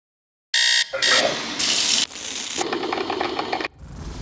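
A shower runs in several short, loud bursts of rushing, splashing water, with brief rattles and changes in the spray, as part of a morning routine. The bursts start and stop abruptly, and no one speaks.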